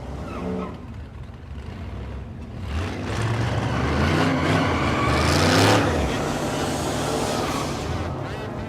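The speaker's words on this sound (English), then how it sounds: "And that's Mike Stiver in the left lane. Mike in the Mustang." A fox-body Ford Mustang drag race car roars loud and close, its engine building to a sustained revving blast down the strip at a racing event in Noble, Oklahoma.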